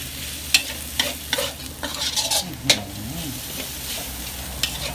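Chicken and offal are stir-fried in a hot wok, giving a steady sizzle broken by sharp metallic scrapes and clanks of the spatula at an irregular rhythm, close and clear with no talking.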